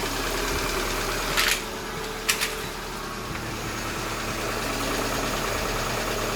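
Hyundai Getz engine idling after a compressor pulley and clutch replacement, with the air conditioning still off, a steady close hum and a couple of brief clicks near the start.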